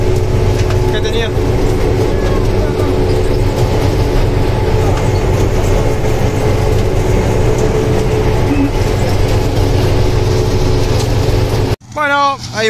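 A tractor idles and drives up beside a combine harvester as corn fills its grain hopper during a late-season corn harvest, a steady loud engine drone and rumble running unbroken before cutting off near the end.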